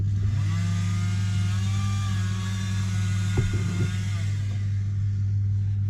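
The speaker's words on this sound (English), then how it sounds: "a chainsaw in the background" A chainsaw drones steadily in the background, a loud, constant engine whine with a low hum that holds throughout, briefly wavering once.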